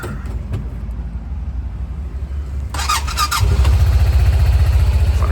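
A three-speed four-wheel-drive utility vehicle with about 3774 on the odometer rumbles at idle, then a sharp squealing crank catches and the engine starts, settling into a louder, steady, throbbing run up close.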